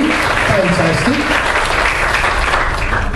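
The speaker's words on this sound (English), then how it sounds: "So if you kindly give them another round of applause, right?" Loud, dense audience applause at the ALL-CON 2011 costume contest, a continuous roar of many hands clapping close up that holds evenly throughout, with some crowd voices mixed in.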